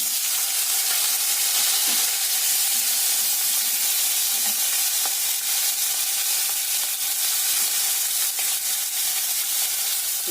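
Crab frying in hot oil with potato and onion, a dense continuous sizzle and crackle close up, steady throughout with faint stirring and no talk.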